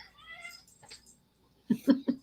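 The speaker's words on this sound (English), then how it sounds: "there's no greater sound than a cat meowing" Pet cat meowing three short times in quick succession, close and clear, after a brief stretch of faint talk.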